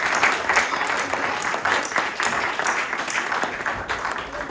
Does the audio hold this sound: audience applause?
yes